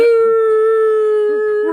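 A human voice imitates a dog howling, one sustained wavering howl lasting under two seconds, close and loud, with no other talk.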